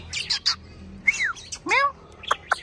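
An oriental magpie-robin sings close by in short, clear bursts of whistles, chirps and sliding notes separated by brief pauses, with faint background noise.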